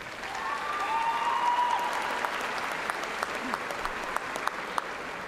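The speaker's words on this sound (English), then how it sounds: "with a generous round of applause." A large commencement crowd at Eastern Kentucky University's 2018 fall evening ceremony claps in a sustained, dense round of applause that fills the hall evenly from start to finish, with a few sharper individual claps near the end.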